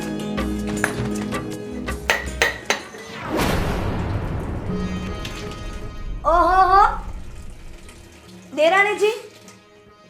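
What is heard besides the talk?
washing dishes, pots clinking under running tap water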